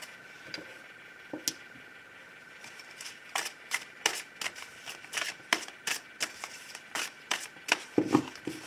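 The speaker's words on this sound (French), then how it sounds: "Et je vais prendre un autre tarot pour compléter ces deux tirages." Tarot cards being shuffled in a series of crisp, repeated riffling snaps, quiet and close, growing denser toward the end with no voices.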